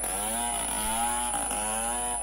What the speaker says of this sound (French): À l'aide d'une tronçonneuse, les agents municipaux découpent les branches de l'arbre